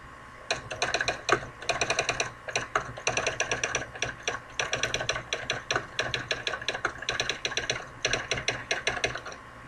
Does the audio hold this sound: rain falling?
no